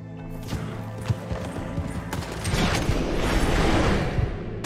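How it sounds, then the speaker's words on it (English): Hooves clatter and thump amid rumbling, busy noise in Red Dead Redemption 2 that grows louder toward the end, with a horse's presence suggested by the uneven galloping beats. "Not the horse. Who's that horse, John?"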